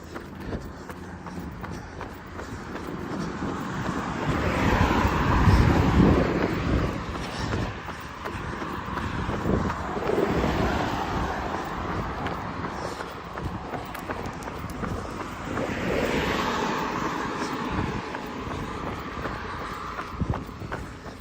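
A rough, uneven engine rumbles and labors close by, swelling and fading in waves with a gritty, strained tone and no voices.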